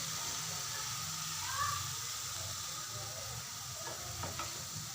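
A thick paste for shakshuka frying in a pan, giving a faint, steady sizzle and hiss with a few light stirring taps near the end.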